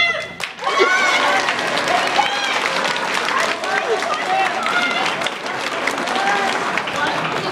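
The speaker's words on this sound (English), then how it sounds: "every time the audience claps hard enough" An audience claps at a live children's theatre show, steady dense applause mixed with excited crowd voices and shouts layered over it, continuing throughout.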